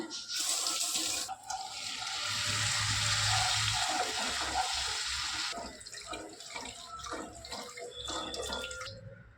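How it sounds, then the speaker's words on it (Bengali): Water is poured into a frying cumin and coriander spice paste for a vetki fish curry, producing a steady, loud rushing splash and sizzle for several seconds that then eases into softer bubbling. "এবারে আমি এর মধ্যে জল দিয়ে দেবো।"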